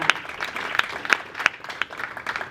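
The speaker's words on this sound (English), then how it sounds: "we should give a big clap, a big applause" Audience applause at a community coalition conversation with a police chief, a burst of scattered hand clapping from a moderate-sized crowd, steady and fairly close for the full stretch with no talking over it.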